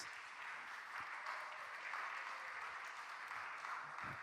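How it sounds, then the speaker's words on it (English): Audience at a live conference talk applauding, a steady, soft wash of many hands clapping that stays even throughout and sounds distant and faint. "Round of applause."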